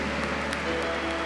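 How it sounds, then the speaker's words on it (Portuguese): An audience applauds for Our Lady with a short burst of steady, dense clapping and a faint hum underneath. "Eu quero pedir uma grande salva de palmas a Nossa Senhora, a mulher por excelência"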